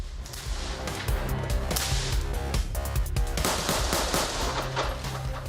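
Special forces assault rifles of Moscow's SOBR unit fire in rapid, loud bursts, with sharp cracks repeating densely throughout and no speech between them.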